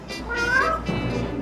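A pet parrot imitates a cat's meow, giving one drawn-out, rising and falling meow that sounds close and clear, with a little faint background noise.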